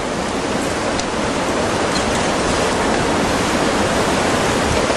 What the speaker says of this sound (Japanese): ここにないような大津波。